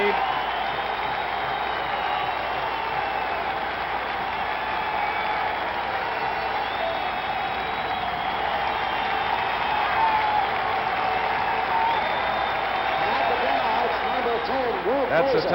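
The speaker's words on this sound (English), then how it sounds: "That's the type of applause that has been reserved for boxers like Sugar Ray Robinson in the old garden" A packed arena crowd at Game 7 of the 1970 NBA Finals gives Willis Reed a sustained roaring ovation of dense applause and cheering, with a commentator's voice faintly audible over the din.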